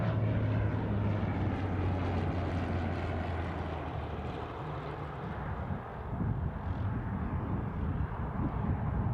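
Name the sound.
small aircraft flying at Newcastle International airport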